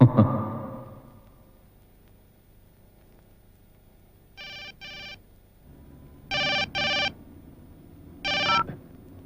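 A telephone ringing in three separate double bursts after a soft thud and a quiet stretch, fairly clear and alone.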